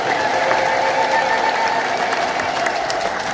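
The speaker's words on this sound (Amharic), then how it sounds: "እልልታችሁን እግዚአብሔር ይቀበላችሁ።" A church congregation at a large religious feast celebrates with sustained, loud ululation and crowd noise, a dense continuous wall of voices with no single speaker standing out.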